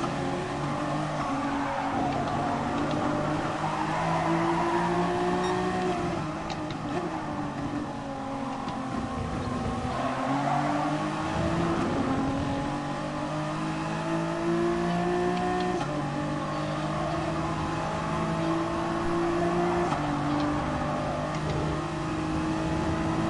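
Race cars in the IRON series competing on track, engines revving and shifting with rising and falling whines, tires skidding through corners, a steady close roar that continues without a break and with no talk.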